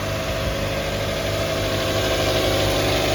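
A 2006 Hyundai Tucson engine, after replacement of a faulty VVT oil control valve, idles steadily up close, a constant low rumble with a faint mechanical vibration and no change in pace.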